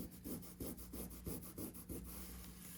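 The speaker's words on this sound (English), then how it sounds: "Use my finger tool and just really burnish that" A finger tool burnishes a paper card from a pop-up envelope card kit, making about seven quiet, evenly paced rubbing strokes in a steady back-and-forth rhythm, close up and faint.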